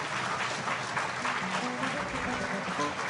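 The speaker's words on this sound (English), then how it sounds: "let's give him a round of applause" Sustained audience applause fills a presentation room as a crowd honors a NAMMY-winning Native American musician, a dense, steady wash of many hands clapping at an even level throughout.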